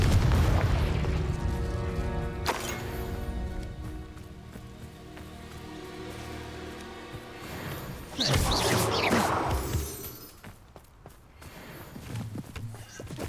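A Confringo blasting spell bursts in Hogwarts Legacy, a sharp boom near the middle followed by a rushing, crackling blast that fades, set among footsteps and other game effects.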